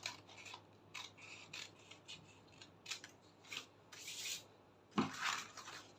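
Scissors cut through a paper sewing pattern for a bustier in short, scraping strokes, rustling irregularly close by with one sharper snip near the end.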